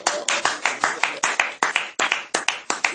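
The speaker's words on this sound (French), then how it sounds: "Acclamons très fort." A church congregation claps loudly in a steady, rhythmic beat, with sharp repeated hand claps filling the room.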